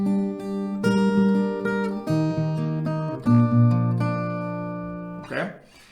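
Acoustic guitar picking the bridge melody of Kygo and Avicii's Forever Yours, single notes ringing over open strings in a steady moderate rhythm, close and clear, ending in a brief scrape.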